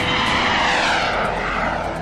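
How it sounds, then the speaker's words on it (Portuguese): Jet aircraft roaring steadily overhead, a loud continuous broadband engine rush with no pauses, heard alone without voices. "aviões invisíveis ao radar."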